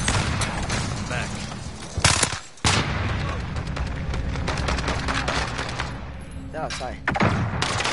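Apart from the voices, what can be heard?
gunfire in the video game Call of Duty: Warzone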